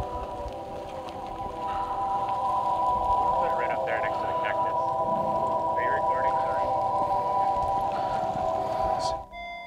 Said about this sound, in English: this noise is going to be required for a lot of electric cars to kind of let pedestrians know that you are driving around